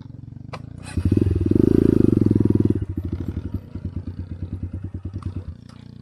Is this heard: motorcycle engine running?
yes